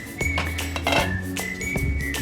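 A spoon clinks and scrapes against a metal pot while egg tomato curry is stirred, a run of close, bright knocks and chimes, without talk.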